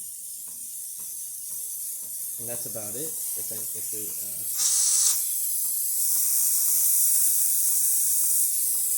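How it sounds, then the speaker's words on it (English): Steady hiss of steam from a Breville Barista Express espresso machine after its pump kicks on, rising to a loud, constant rush that stays up to the end, with someone talking briefly over it. "now you're going to get a steady steam"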